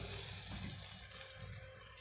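Large tomatoes drop into a hot pan of onion and grated coconut for tomato chutney, giving a soft, continuous sizzle with faint stirring, fairly quiet and with no talk.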